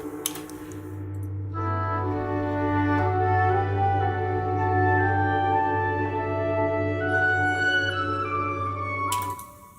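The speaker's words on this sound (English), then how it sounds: "Is that the sound of the tam tam? It is." A tam-tam gong gives a deep, shimmering wash with dense metallic overtones that swells and sustains for several seconds, droning and eerie, then cuts off.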